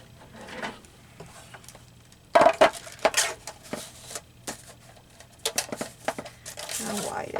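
Paper cutting on a recycled paper envelope for collage journaling: crisp snips, rustles and crinkles of handled paper in short bursts, close up, with room noise.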